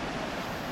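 Released water pours down in a steady, even rush of broadband noise, faint and continuous for under a second.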